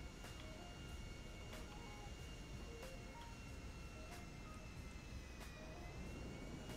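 Steady engine drone of an airplane in flight in the video game GTA 5, a constant broadband roar with a thin whine on top and faint interface blips.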